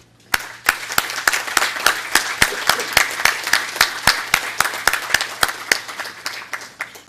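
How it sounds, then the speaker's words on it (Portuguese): Sustained audience applause at a ceremony honoring the 120th anniversary of the Polytechnic School of the University of São Paulo, with dense, steady clapping from a large crowd and a few sharp individual claps standing out throughout, with no talking. "merece uma salva de palmas."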